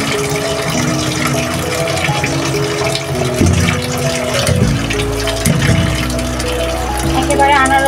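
Tap water runs steadily into a sink while fruit such as pineapple and watermelon is rinsed at home, the flow continuous and fairly close with some clatter, partly under a voice.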